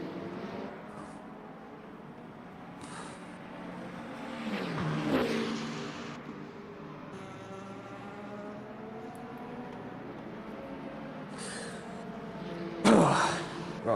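Race car engine drone in a sim-racing event at Bahrain with the number 6 Porsche, a steady moderate hum that swells with nearby passes and brief louder revving bursts.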